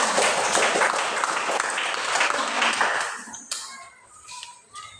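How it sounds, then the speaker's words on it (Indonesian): A school class claps in a dense burst of applause that fades after a few seconds, leaving scattered faint sounds. "Berikan tepuk tangan"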